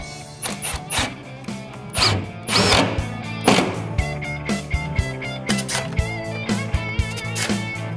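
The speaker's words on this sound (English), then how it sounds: "So we're just using 1¼ inch screws to screw this down to the surface." Power screwdriver driving 1¼ inch screws through half-inch wood into a cornhole board surface, a busy run of whirring bursts and thunks at close range with no talk.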